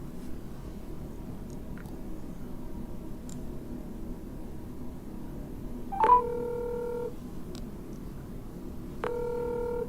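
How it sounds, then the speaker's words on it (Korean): Telephone keypad tones dial out a call, two short bursts of layered DTMF beeps over a quiet background hiss, with no talking. "저희 회원님 전화 한 번 걸어보도록 하겠습니다"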